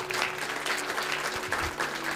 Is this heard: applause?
yes